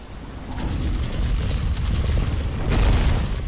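Fire bombs burst in Dark Souls 3 in the Catacombs of Carthus, giving a loud, rumbling boom followed by a second sharp burst near the end, with no talking.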